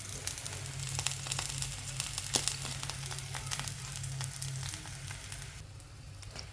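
Chopped vegetables hit hot oil in a pan and sizzle loudly and steadily throughout, with a crackling, close sound that eases slightly near the end; no one talks over it.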